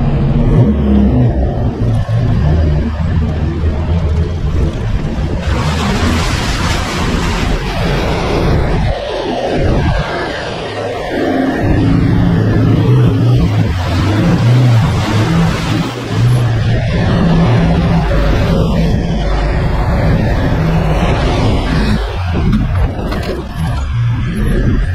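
A vehicle on Radar tires drives through sand and a river crossing, its engine a steady loud roar with surging revs and splashing swells, continuous throughout with no talking.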